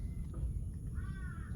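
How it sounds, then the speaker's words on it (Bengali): Crows caw near a resting fox in the open, a couple of harsh calls rising above a quiet outdoor background with soft ambient hum. "আর ওদিকে দ্বার কাকেরা ডেকেই চলেছে অনবরত।"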